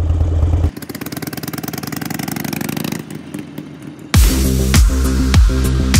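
A Harley-Davidson Sportster with a Gallop Flying Comet exhaust idling with a steady, rapid putter, then a brief dip before the engine surges into louder, rhythmic revving.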